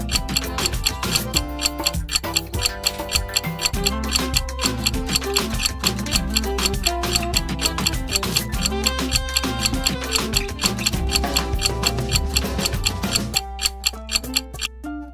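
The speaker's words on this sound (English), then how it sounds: "Your timer is ticking." A clock timer ticks in a steady, even rhythm throughout, layered over continuous background music at moderate loudness.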